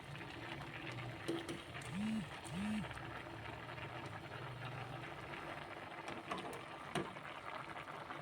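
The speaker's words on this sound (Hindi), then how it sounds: "इसमें 250 ग्राम मैकरोनी पास्ता डालेंगे और इसको भी उबाल लेंगे हम" Macaroni pasta boiling in a pot of water gives a steady bubbling hiss throughout, with a couple of brief tonal chirps early on.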